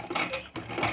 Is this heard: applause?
no